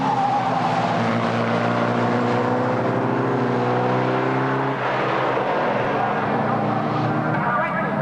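Formula First race cars pass on a circuit, their engines droning loudly and steadily throughout with rising and falling pitch as cars go by, under a constant wash of engine noise.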